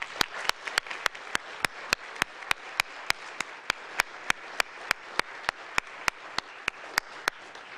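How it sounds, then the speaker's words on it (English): Audience applause at an 8th grade graduation ceremony, with evenly spaced sharp claps standing out in a steady rhythm over a soft wash of clapping, moderately loud and continuous. "can we give them a round of applause?"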